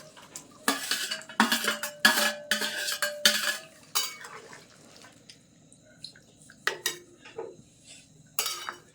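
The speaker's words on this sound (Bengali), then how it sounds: "এখন আমি ঢাকনাটা খুলে একটু নেড়ে দেবো" A metal pot lid lifts off and a spoon scrapes and stirs mutton curry in the pot, with clinks and clattering bursts early on, then quieter scraping and a few knocks, close and alone.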